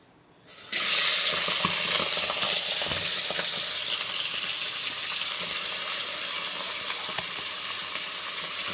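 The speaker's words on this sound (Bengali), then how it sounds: "মাংসটা এখানে পুরো দিয়ে, তারপরে এখানে নুন, হলদি, মরিচ সব দিয়ে দিয়েছি। ভালোভাবে কষিয়ে নিতে হবে। এটা ভালোভাবে নেড়ে নিচ্ছি।" Meat with salt, turmeric and chilli frying in hot oil in a pan, a steady loud sizzle that starts abruptly and continues with faint stirring scrapes, no talking.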